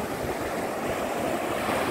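Strong sea waves break on the shore at sunset, a dense continuous wash of surf with wind buffeting the microphone and no voices.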